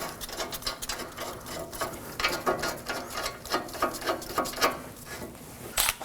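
A ratchet tightens the caliper bracket bolts on a 2014-2020 Acura MDX during a front brake job, giving a steady run of rapid mechanical clicks at close range.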